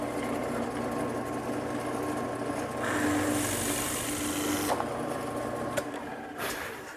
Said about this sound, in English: So I'm using this Forstner bit, going down about a 1/16 of an inch.